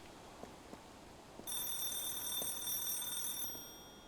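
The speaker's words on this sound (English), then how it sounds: "The phone is ringing." A telephone rings in the Silver Pines video game, a bright electronic trill that starts abruptly after a quiet stretch with a few soft knocks, holds steady for about two seconds, then cuts off.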